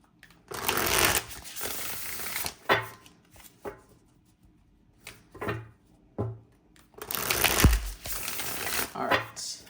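Tarot cards are shuffled in several bursts of riffling and slapping, separated by quieter taps and short pauses.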